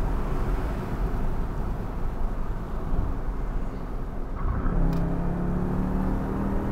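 A 707-horsepower 2018 Jeep Grand Cherokee Trackhawk lapping Laguna Seca gives a loud, continuous engine roar heard from inside the cabin, then the pitch shifts as the throttle lifts near the end.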